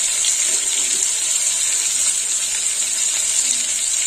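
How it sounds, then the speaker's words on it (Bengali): Red lentils (masoor dal) pour into a cooking pan of sautéed tomato, giving a steady, even watery rush that holds unbroken for about four seconds with no talking. "এবার ডালটা ঢেলে দেবো।"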